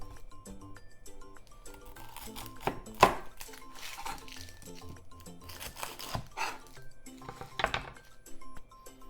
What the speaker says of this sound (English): let's do all the cutting first. So onion, I'm using 1/4 of this.